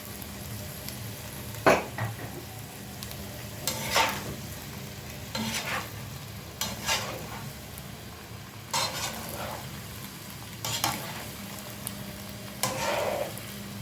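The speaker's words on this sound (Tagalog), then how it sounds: "Ayan na guys, luto na ang ating stir fry." Vegetables stir-fry in a pan with Kikkoman stir fry sauce, giving a soft steady sizzle broken by repeated scraping, tossing strokes of a utensil against the pan every second or two, close up with no talking.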